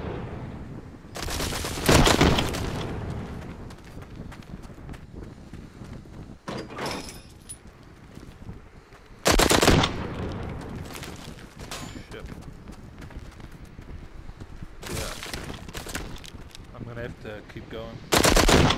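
Loud bursts of automatic gunfire in the VR zombie shooter Arizona Sunshine, co-op play, several rapid volleys a few seconds apart, with a short spoken line in between.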